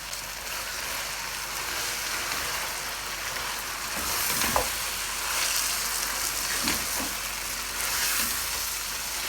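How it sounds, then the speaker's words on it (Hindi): Mutton frying in a pan for a yakhni pulao, a continuous rushing sizzle with a few dull thuds and scrapes of stirring midway, fairly close and steady with no voices. "अच्छे तरीके से हमने मीट को भूनना है। तकरीबन 10 से 12 मिनट तक हमने भूनते जाना है।"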